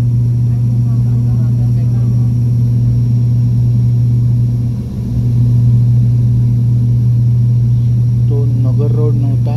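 Airplane landing at Pune airport from the Chinchwad side, a steady loud low engine drone with a constant hum throughout and a brief dip near the middle, with faint voices near the end.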